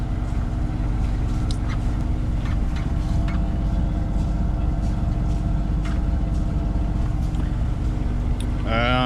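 A boat motors at about 3.5 knots through a canal into a headwind, its engine a loud constant low drone with wind rush throughout and a brief whine near the end.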